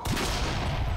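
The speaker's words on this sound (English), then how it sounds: "can I blow up fireworks by shooting them?" Gunfire setting off fireworks in the video game Bioshock Infinite, a dense continuous burst of loud crackling blasts filling the whole moment without speech.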